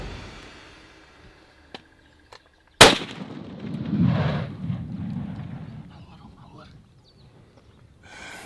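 One sharp, loud rifle shot rings out during a buffalo hunt in the African bush, then rumbles away into low murmuring and ambient noise.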